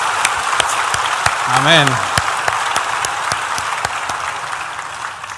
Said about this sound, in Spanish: denle un aplauso al que merece toda la gloria